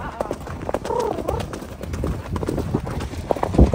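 A horse at a riding camp gallops close by, its hooves pounding in a quick, rough rhythm, with bird calls and brief voices mixed in.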